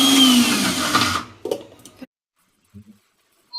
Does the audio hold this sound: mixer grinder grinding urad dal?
yes